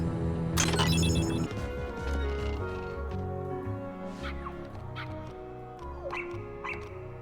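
Small puppies in the Kingdom Hearts video game yip and bark in short, faint bursts scattered over busy game music, with no talking.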